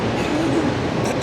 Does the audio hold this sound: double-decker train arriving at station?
yes